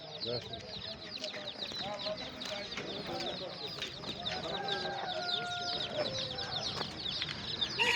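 Swedish hens cluck and cackle in a steady, crowded chorus at the Sungurlu poultry market in Çorum, with voices murmuring through the bustle nearby.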